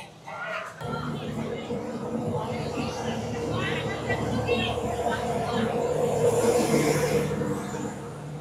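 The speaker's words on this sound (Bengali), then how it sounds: "সরাইঘাট এক্সপ্রেস প্ল্যাটফর্মে প্রবেশ করছে" Saraighat Express pulling into a crowded station platform, a steady low rumble building gradually and continuing for several seconds, with crowd noise and nearby voices talking over it.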